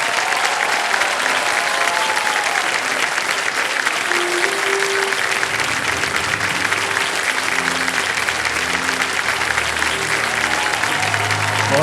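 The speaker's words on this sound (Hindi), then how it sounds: "मैं चाहता हूं कि तालियों के साथ उनका अभिनंदन किया जाए" Studio audience applause welcoming IPS officer Manoj Kumar Sharma onto a quiz show stage, a long, loud, unbroken wave of clapping with faint crowd murmur and some low music underneath.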